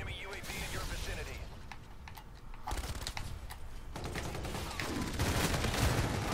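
Rapid gunfire bursts and clicky weapon mechanics in Call of Duty: Infinite Warfare multiplayer, close and choppy with short pauses, mixed with game sounds and speech.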